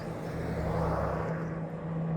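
Stunt plane from an aerobatic trick flyer passing overhead at St. Augustine Airport, heard as a steady droning engine rumble with a constant low hum, fairly distant and unbroken throughout.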